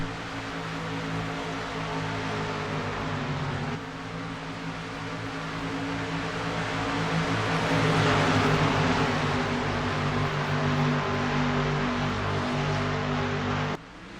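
Engine drone of a field of stock cars in an ISCR Cup Classic sim racing race at North Wilkesboro, restarting under green after the pace car pulls off; dense steady engine harmonics that swell louder in the middle, with no talk.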